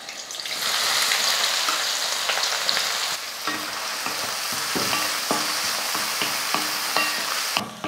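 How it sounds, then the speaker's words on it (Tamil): Steady loud sizzling of onions frying in hot oil, with occasional scraping and stirring clatter from a spoon in the pan. "வெங்காயம் நல்லா வதங்கிடுச்சு."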